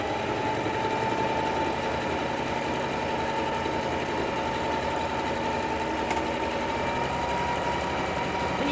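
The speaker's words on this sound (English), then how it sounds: "You're just going to push the pedal down and kind of very gently guide the fabric, but the machine is going to make a whole buttonhole." A Singer Classic 44S sewing machine stitching a buttonhole runs at a steady, continuous whirring hum with a fine rapid needle chatter, close and unbroken throughout with no talking.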